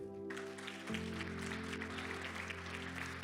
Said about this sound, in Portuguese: Quer aplaudir? Pode aplaudir.